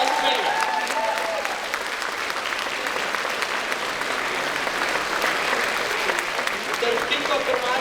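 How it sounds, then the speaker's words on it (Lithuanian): Sustained, dense applause fills a concert hall at a 20th-anniversary jubilee concert, steady and loud throughout the clip with no pauses. "jeigu yra Falmyra, prašau jūs atsistot ir gausais aplodismentais"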